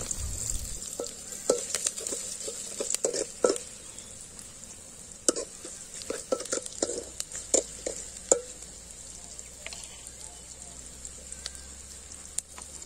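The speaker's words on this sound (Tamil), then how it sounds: "வெங்காயம் நல்லா வதங்கிருச்சு." Onions frying in a pan with curry leaves at an outdoor village cooking spot, a steady sizzle with scattered clinks of a ladle stirring through it, fairly close and moderate in level.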